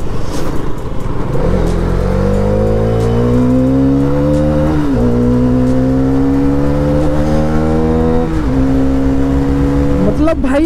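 A Hero Karizma XMR 210 motorcycle engine revs loudly up close, with rising pitch sweeps, brief drops between throttle blips and a strong harmonic drone throughout.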